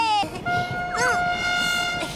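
An animated cartoon diesel train sounds its horn in steady two-tone blasts over a rumbling rail background, with a voice speaking briefly near the start and again at the end.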